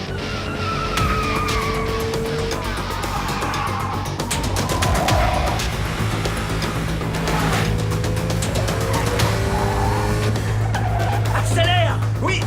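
A car in an action film chase, engine revving hard while tires squeal and skid in repeated bursts, loud and close, with excited voices shouting over the driving.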